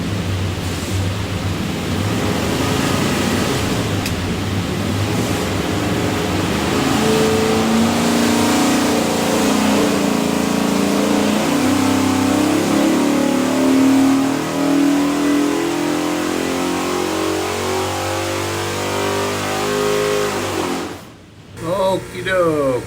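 A 427ci small block Ford with a custom ground hydraulic roller cam and Moroso front sump oil pan revs on an engine dyno, one long loud sweep climbing steadily in pitch for about twenty seconds before cutting off abruptly.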